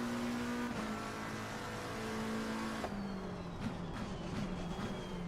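A McLaren race car engine drones in a racing video game, a sustained tonal hum that holds steady, shifts pitch midway, then wavers as the car works through corners.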